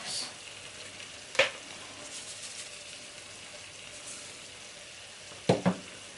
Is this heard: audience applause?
no